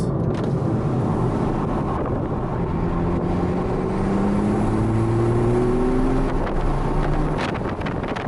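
Toyota GR Supra with a stock airbox mod accelerating in auto normal mode with the windows open, a rising turbo spool whistle climbing over steady engine drone and wind buffeting, heard from inside the cabin.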